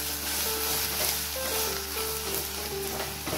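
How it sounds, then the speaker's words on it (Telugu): Ginger garlic paste fries in a pan while being stirred, a dense, close, steady sizzle with no talk over it. "మనం కాస్తంత అల్లం వెల్లుల్లి పేస్ట్ వేసుకుందాం. ఇది కూడా కొంచెం బాగా కలిసే వరకు కూడా కలుపుకోవాలి."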